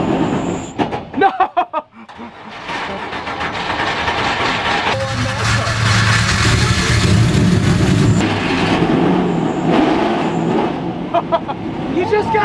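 Engine of an illegal street-driven NASCAR stock car accelerating on a drive to McDonald's, a loud sustained roar that builds and holds after a brief bumpy start, with people talking and shouting over it.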